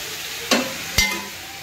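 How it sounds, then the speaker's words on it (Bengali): A vegetable curry of drumstick stems, potato, pointed gourd and ridge gourd cooking in a pan, with a soft steady sizzle broken by two distinct clunks of a stirring spoon close by. "আর এইদিকে আমার তরকারি চাপানো হয়ে গেছে, ডাঁটার তরকারি"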